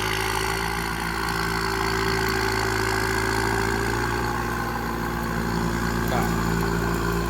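An MU5J farm tractor engine idles steadily and loudly nearby with a constant low rumble and whine, no pauses throughout.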